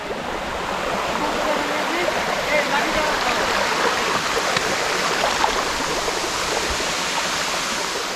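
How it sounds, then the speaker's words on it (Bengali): Napittachora waterfall in hilly terrain, its water rushing and pouring down in a steady, broadband roar that stays constant and fairly close throughout. "এই ঝর্ণার পানিগুলো এখান দিয়ে নেমে যাচ্ছে"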